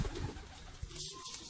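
Lakha pigeons coo softly and briefly close by, a low murmuring call against faint background noise.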